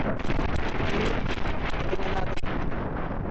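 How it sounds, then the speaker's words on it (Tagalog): Strong mountaintop wind on Colorado Highway 70 buffets the microphone in a constant roaring rush, loud and close, with no clear voices over it. "ang hangin dito kasi nasa tuktok tayo eh"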